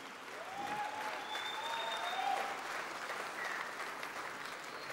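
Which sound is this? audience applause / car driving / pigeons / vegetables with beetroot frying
audience applause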